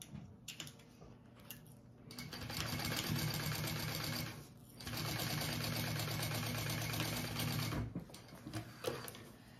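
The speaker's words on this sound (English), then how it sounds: "I'm gonna sew that at that bigger seam allowance" Domestic sewing machine stitching a bag bottom panel to a gusset at a wide seam allowance over foam, a close steady motor whir in two long sustained runs separated by short pauses.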